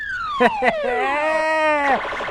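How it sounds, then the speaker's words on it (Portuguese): A police siren sound effect plays loud and close, with rising and falling wailing sweeps and a couple of short sharp bursts near the start before the tone drops away. "Toca a sirene da polícia. A polícia tá chegando, Carluxo."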